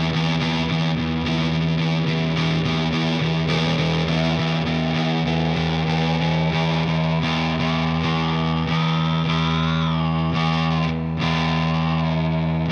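An electric guitar sustains an E note through a DOD Gonkulator ring modulator pedal, giving a steady, heavily distorted metallic drone with shifting pitch sweeps and harmonic ringing, loud and continuous with no voices.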